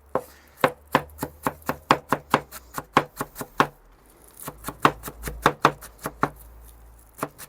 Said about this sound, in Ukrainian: Кріп, петрушка, цибуля. Міленько, дрібненько.